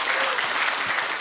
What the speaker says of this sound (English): I'm glad that you're clapping